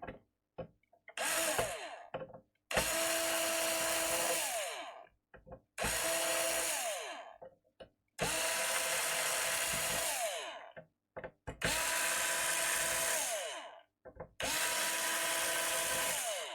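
A power screwdriver backs screws out of a device on a workbench in repeated bursts of a few seconds each, whirring steadily with short pauses between, close and fairly loud with no talk.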